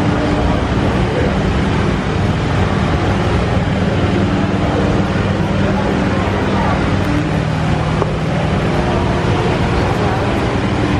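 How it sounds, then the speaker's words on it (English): An airport train at Atlanta airport rumbles along in a steady, loud, unbroken roar of rolling and rattling, with some talk faintly mixed in. "Take this train."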